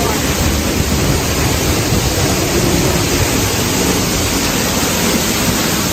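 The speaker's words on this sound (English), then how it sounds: "Lots of waterfalls." Loud, steady roar of a waterfall heard from behind the falls during heavy rain, a dense broadband rush filling the whole clip without pause.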